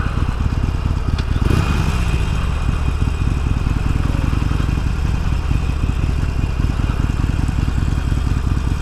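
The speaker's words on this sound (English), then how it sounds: "So this is the 2018 Breakout Softail. I'm about to ride it." A 2018 Harley-Davidson Breakout Softail motorcycle engine idles steadily and close by, with a continuous low throbbing rumble and no talk over it.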